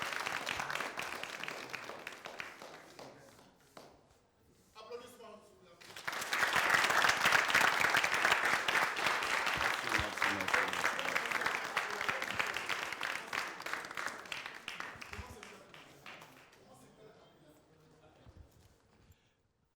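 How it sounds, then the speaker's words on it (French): A TV show audience claps to welcome a performer named Choki onto the stage, building into loud, rhythmic applause that swells, holds for around ten seconds, then tapers off, with a few quieter gaps and sounds around it. "merci d'accueillir et d'applaudir Choki"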